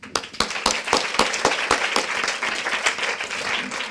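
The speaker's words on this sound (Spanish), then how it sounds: "Muchas gracias, Timo, y otro aplauso." An audience at a literary talk at the Instituto Cervantes claps for a writer, with distinct sharp claps at first merging into sustained, fairly close applause.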